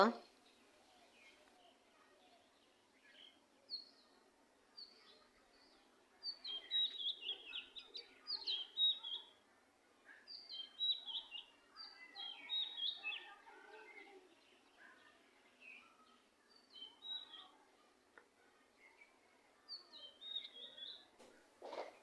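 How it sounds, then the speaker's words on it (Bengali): Birds chirp in the afternoon outdoors among mango trees in blossom, with scattered high tweets and calls coming in irregular bursts, moderately distant, over quiet background. "আর বিকেলবেলা পাখির কিচিমিচি কিচিমিচি শব্দ।"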